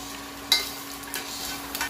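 Garlic and onion frying in a pan for congee: a soft, steady sizzle under a faint background hum, with a few brief scraping stirs breaking through, the first one the sharpest.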